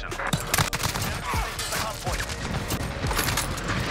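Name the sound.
gunfire from ISO submachine gun in video game Modern Warfare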